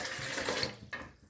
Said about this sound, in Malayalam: കൊഴുക്കട്ട വേവാനുള്ള ആവശ്യത്തിനുള്ള വെള്ളം ഒഴിച്ച് കൊടുത്തുട്ടാ.